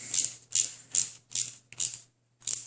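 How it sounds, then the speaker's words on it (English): Small screws being driven tight into a Tamiya model flatbed trailer, giving six crisp, evenly spaced ratcheting bursts, each about a third of a second long. A short pause comes before the last one, and no one speaks. "you can screw them down nice and tight"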